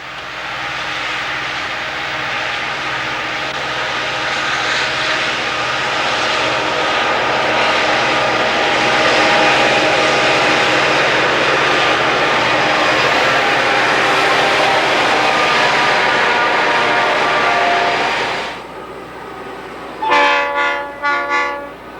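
Santa Fe diesel locomotive with a 3,000-horsepower 16-cylinder engine, a loud sustained engine roar building and holding for many seconds before fading, followed by several short blasts of the train horn.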